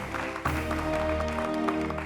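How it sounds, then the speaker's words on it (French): Studio audience on a Beninese TV variety set applauding loudly and steadily, with music continuing underneath the clapping throughout. "On va les applaudir encore très fort, s'il vous plaît."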